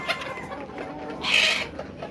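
Egyptian Fayoumi chickens cluck nearby over a steady background murmur, with one sharper, brighter call rising briefly in the middle.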